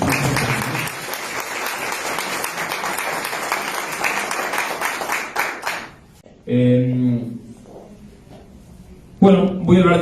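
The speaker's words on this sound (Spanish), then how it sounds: "Un aplauso para nuestro mentor." A hall audience at a Catholic lecture bursts into steady, dense applause for the speaker, lasting about six seconds before cutting off; brief bursts of speech and sound follow in the quieter remainder.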